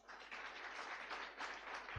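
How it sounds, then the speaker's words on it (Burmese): Audience applause at a Successmore motivational talk: dense, steady clapping from a crowd that holds at an even level for about two seconds with no voices over it. "လက်ခုပ်တီးလို့ရတယ်ခင်ဗျ"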